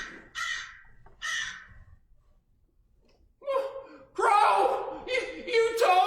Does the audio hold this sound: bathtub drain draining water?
no